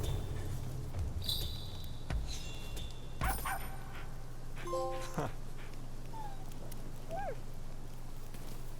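A dog in Rise of the Ronin giving short yips and a whimpering whine, set among scattered clinks and knocks and a low steady hum at fairly low level.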